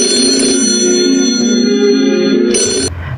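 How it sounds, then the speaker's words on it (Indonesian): A telephone rings in an old Indonesian horror film, a steady electronic trill with bright, sustained tones that cuts off abruptly after about three seconds. "Alisa pun ditelepon oleh seseorang"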